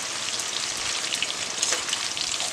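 Raw banana slices fry in hot oil in a wok as chips, a dense, loud, continuous sizzle with fine crackling and no voices.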